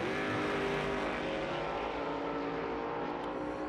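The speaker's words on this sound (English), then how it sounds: "Final Vortex Supercharger top sportsman race of the year." Top sportsman drag race cars with Vortex superchargers launching and accelerating, a loud sustained engine roar with a steady pitch over the full stretch.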